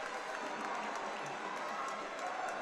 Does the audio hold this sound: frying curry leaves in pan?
no